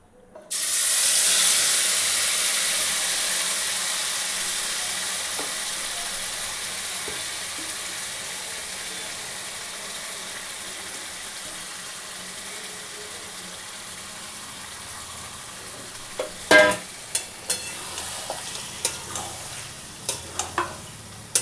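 Mutton hits hot mustard oil in a dark kadai already used for frying potatoes, a loud steady sizzle that fades gradually over the stretch, with clinks of stirring near the end.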